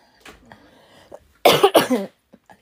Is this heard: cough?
yes